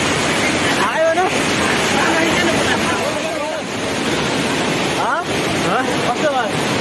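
Rushing water roars steadily at the Panchakanya waterfall, a dense, close wash of noise with voices speaking briefly over it.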